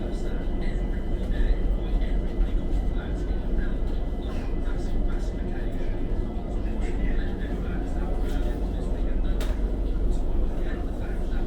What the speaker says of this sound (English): This is a Windrush line train to Highbury Islington.